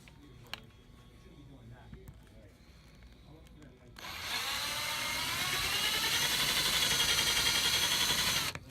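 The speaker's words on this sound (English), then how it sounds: "we're going to drill a hole down here into the platform" A power drill whirs steadily into a wooden model train layout platform for several seconds, loud and close, after a quieter stretch of faint handling noises.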